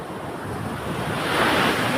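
A wide river at high tide rushes loudly, giving a broad, continuous roar that swells slightly toward the end, with wind buffeting the microphone.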